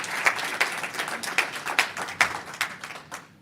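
Audience applause at a climate-focused business event hub in Davos, with distinct individual claps standing out within a moderate, steady patter that tapers off at the end.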